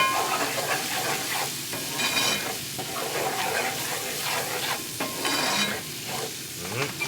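Flour being stirred into a roux-like mixture in a pan on a stovetop over lowered heat for pizza, a steady close sizzle with continuous scraping and stirring strokes throughout, no talk.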